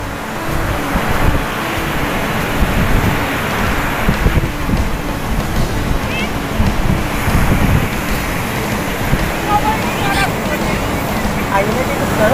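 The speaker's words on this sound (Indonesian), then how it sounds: "Anginnya tipis banget sih," Strong outdoor wind buffets the microphone with a continuous loud rumble at a kite-flying field, where a large dragon kite is being flown on fibre line.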